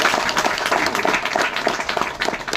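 Dense audience applause from a crowd at a gathering, many hands clapping steadily at a fairly loud, even level for the whole stretch with no voices on top.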